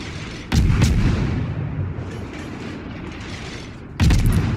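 Naval gunfire from a warship in a naval combat video game, two heavy booming salvos, one early and one near the end, each rolling into a long, loud rumble.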